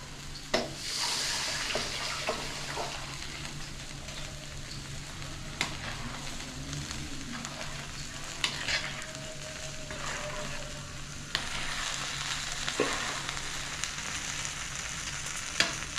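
Tamarind water mixed with tomato and cumin is poured into kuzhambu masala in a pan and stirred, giving a quiet, steady sizzle and liquid swish broken by occasional utensil clicks, with no one talking.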